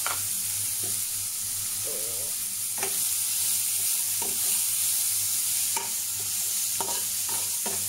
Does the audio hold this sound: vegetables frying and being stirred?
yes